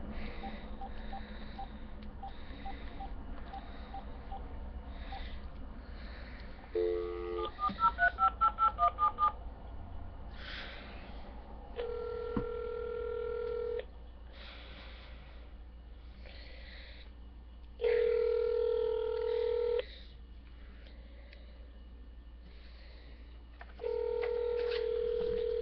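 A telephone's keypad beeps through a series of short dialing tones, then gives way to a sequence of longer ringback tones separated by pauses, heard fairly close against quiet background noise.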